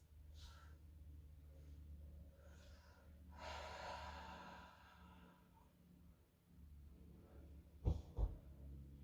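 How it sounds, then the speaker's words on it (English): Breathing during a yoga practice: several soft close breaths, including one longer audible exhale, then a couple of brief bumps or thuds near the end, quiet and without talking. "Take a few breaths."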